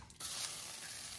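Bacon sizzles on a sizzle platter, a brief, soft and steady hiss with no talk.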